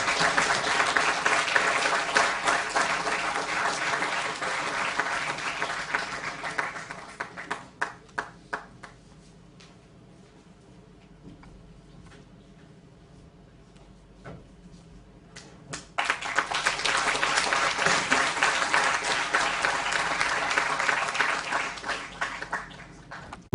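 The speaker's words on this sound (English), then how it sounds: "Please give a big round of applause." A large crowd at a passing out parade applauds loudly for several seconds, fades to scattered claps and near quiet, then bursts into sustained loud clapping again.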